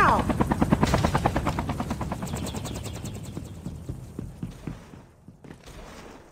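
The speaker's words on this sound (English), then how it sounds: "Incoming helicopter!" A helicopter in the Call of Duty Mobile video game thumps in with a loud rhythmic rotor chop that slowly fades, mixed with bursts of gunfire.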